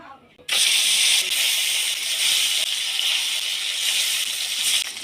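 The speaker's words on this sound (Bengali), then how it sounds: "এবার মাছগুলো আমি ভেজে নেব।" Turmeric-coated fish pieces frying in hot oil, a loud, dense, continuous hissing sizzle that starts abruptly and holds steady up close, with no one talking.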